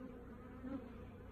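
Honey bees buzz around a hive with a brood box, making a faint, continuous low drone that swells slightly in the middle of the short stretch.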